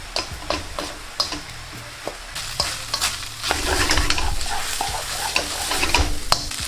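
A spatula stirs black pepper, salt and dark soy sauce through sizzling chicken in a hot pan for chicken Manchurian, sharp clanking scrapes at first, then a thicker bubbling fry that swells toward the end, close and with no voices.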